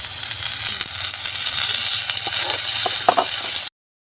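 Tomato and curry leaves frying in oil, a loud steady sizzle with a few crackles and pops, cutting off abruptly near the end.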